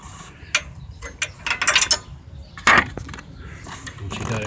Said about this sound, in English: a ratcheting wrench really helps big time